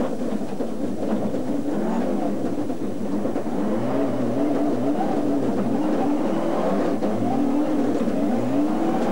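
A 1997 Ford Escort WRC rally car at speed on a Monte Carlo rally test, its engine roaring steadily and loudly from inside the cabin as revs rise and fall continuously without a break.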